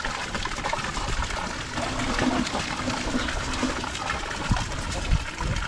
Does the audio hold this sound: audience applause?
no